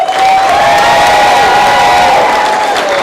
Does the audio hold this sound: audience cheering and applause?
yes